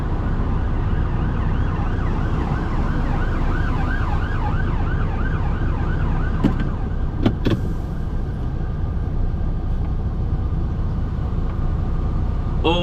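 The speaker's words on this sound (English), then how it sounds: "let this police car through" A police car siren wails in repeating rising and falling sweeps as it passes through a road junction, loud at first, then fading beneath steady traffic noise, with a couple of sharp knocks partway through.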